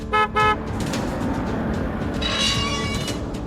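A car horn gives two short, loud toots up close, followed by the steady rumble of a vehicle engine as it rolls nearby.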